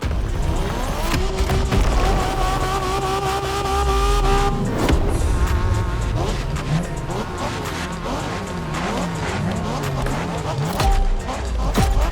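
A car engine roars through a Japanese street race in the video game The Crew Motorfest, revving up and down with shifting pitch and occasional tire squeal, loud and close throughout.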